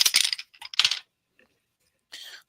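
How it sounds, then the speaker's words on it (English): A d20 die for a tabletop role-playing game clatters and rattles across a hard surface in a couple of quick close bursts, followed by a short pause and a final brief skitter. "roll me a d20"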